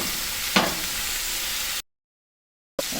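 Sticky glaze pork chops frying on medium heat in a pan, a steady close sizzle with one brief louder crackle, cutting to silence before the sizzle resumes.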